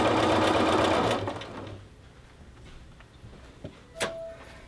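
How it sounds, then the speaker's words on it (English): Sewing machine running steadily while topstitching a 5/8 inch seam on a knit jacket, a close whirring hum that stops after about a second, followed by faint clicks and a small clack near the end. "making sure that that 5/8 inch seam lays flat and is defined as I'm stitching it"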